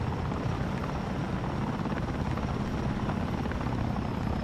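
Helicopter in the video game Ares at War, a steady close rotor thrum with continuous low chopping beats and engine whine, loud and unbroken with no talk.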